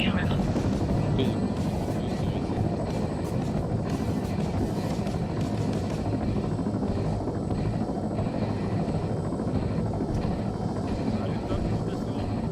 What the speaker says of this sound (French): on attend le top de Billy pour descendre l'hélicoptère.